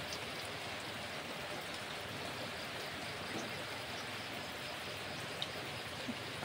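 Heavy, steady rain pours over a farm in Agusan del Sur, a dense even hiss of falling water with no letup, loud and close, with a few faint drips and no voices.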